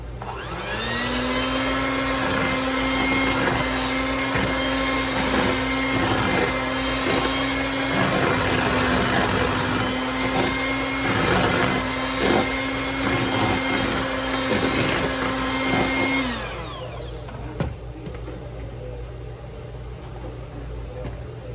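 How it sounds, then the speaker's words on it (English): An electric hand mixer runs steadily in a bowl of butter and eggs, a loud continuous motor whine with rattling for about sixteen seconds, then cuts off into quiet clinks. "what I do now is just blend everything together in this bowl"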